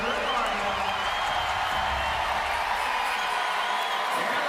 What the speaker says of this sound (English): The cheer you hear is for Samantha Briggs, who is still struggling at 210